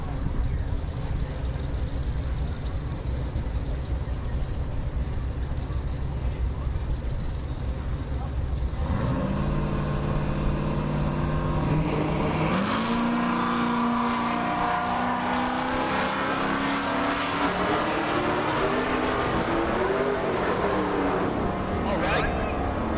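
Drag racing cars, one a Mustang, launch down the SRCA dragstrip in Great Bend, Kansas. A steady engine rumble gives way to a rising, revving roar as a car accelerates away.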